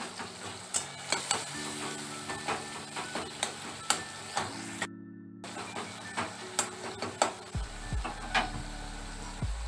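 Masala of turmeric powder, chilli powder and softened tomatoes is stirred and fried in a pan for a mustard rohu fish curry: a low sizzle with repeated scraping strokes of a spatula at a regular rhythm, close and alone.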